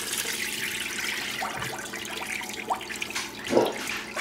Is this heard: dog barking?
no